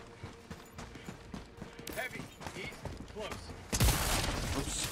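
Gunfire in the video game Helldivers 2 crackles in rapid bursts, then swells into a loud, dense sustained volley near the end, mixed with game effects and someone talking over it.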